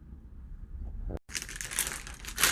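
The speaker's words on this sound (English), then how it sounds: "You can hear my crinkling plastic bag of chocolate chips." A plastic bag of chocolate chips crinkles and rustles up close, a short pause, then louder, sharper crinkling bursts.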